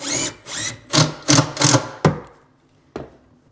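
Power drill driving screws to fix a corner kitchen cabinet to the wall, several short whirring bursts close by, then a lone brief burst after a pause.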